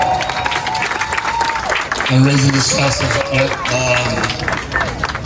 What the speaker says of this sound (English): ladies and gentlemen, just give a round of applause to the mother of the bride